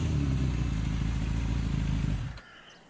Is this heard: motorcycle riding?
yes